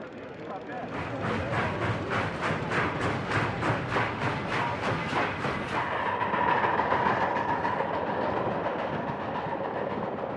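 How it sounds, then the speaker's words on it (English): A train rolls along the rails with rapid, rhythmic clickety-clack beats and a steady rumble, holding at a constant, fairly close level throughout. "they were put into trains taking them away from the west coast"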